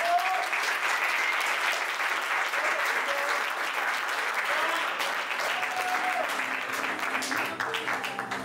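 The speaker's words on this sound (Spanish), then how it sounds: "Aplausos, por favor." Steady applause from an audience at a lucha libre wrestling event fills the space evenly, a dense wash of clapping that holds for several seconds and only slightly thins toward the end.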